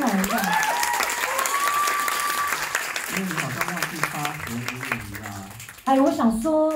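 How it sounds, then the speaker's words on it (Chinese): An audience applauds at a pop concert in Singapore during the band introduction, with a voice carrying over it and the clapping growing denser toward the end. "掌声来一下。"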